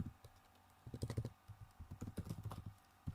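A computer keyboard clicks through quick bursts of typing, soft and close, with brief pauses between runs of keystrokes and a low hum underneath.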